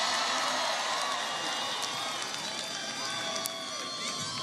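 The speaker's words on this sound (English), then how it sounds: "Can everybody please give Patrick a big round of applause for that great introduction?" A large crowd at a Philadelphia campaign rally for Hillary Clinton, with President Obama on stage, roars with sustained cheering, whoops and clapping, a loud continuous wall of noise from start to finish.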